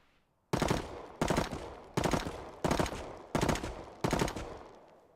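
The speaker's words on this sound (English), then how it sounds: "I'm going to empty a whole magazine." Video game gunfire from a burst-fire weapon emptying a whole magazine: six evenly spaced, loud, sharp bursts, each decaying briefly before the next, with no talking.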